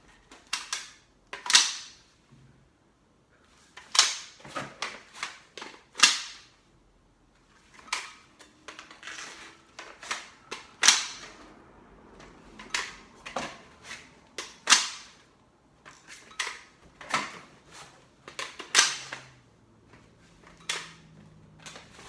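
Rifle magazines are pulled from and pushed back into an elastic chest rig. Crisp clacks and clicks come in irregular bursts, close and fairly quiet, with no talk.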